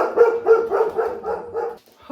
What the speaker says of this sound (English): when Dolly starts barking